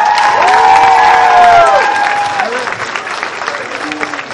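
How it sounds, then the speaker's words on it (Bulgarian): Applause and cheering at a university finance specialty evening styled as an Oscars night, loud crowd clapping with overlapping voices and cheers at first, then thinning into scattered claps. "Първо аплодисменти за участниците в програмата."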